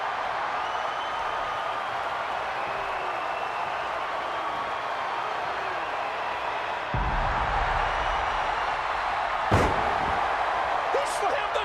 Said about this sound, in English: He slammed the Giant!